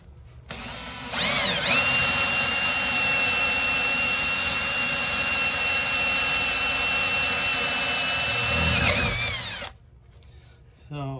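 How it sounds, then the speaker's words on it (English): A power drill bores a hole into an RV gray water tank, a loud sustained high whine starting after a second and running steadily for about eight seconds before cutting off, followed by a brief quiet and a short restart. "And now I'm going to go ahead and drill a hole here."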